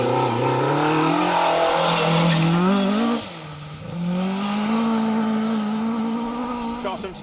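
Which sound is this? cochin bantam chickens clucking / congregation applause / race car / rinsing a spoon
race car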